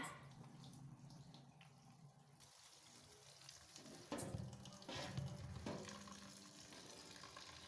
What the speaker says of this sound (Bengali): এবার আমি চাউলটা পরিষ্কার করে ধুয়ে নিচ্ছি